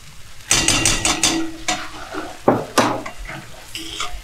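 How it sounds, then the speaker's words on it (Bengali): A spoon scrapes and clinks against a pan as egg bhurji with butter is stirred and fried, giving several sharp, close metallic strokes with short pauses between them. "বাটারটা দিয়ে আরও নাড়াচাড়া করে ভালো করে ভুজিয়াটা ভেজে নাও।"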